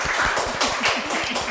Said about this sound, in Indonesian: Coba kita tepuk tangan dulu dong.